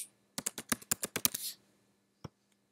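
Computer keyboard typing for data entry: a quick burst of about ten close, crisp keystrokes over roughly a second, then one isolated key tap after a pause, no voices.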